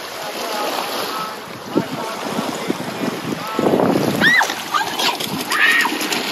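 Splashing and churning water as someone swims in the sea at a quiet anchorage off Montenegro, with soft wave wash and wind, plus brief voices calling out nearby.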